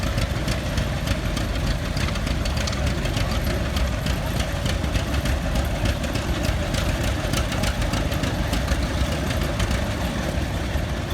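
A 1961 John Deere 1010 gas tractor engine runs steadily at a show, its loud, even mechanical chug holding without a break throughout.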